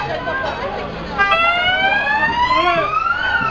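An ambulance siren wails, rising and sweeping through its tone, loud and fairly close, with demonstration crowd noise and voices mixed underneath.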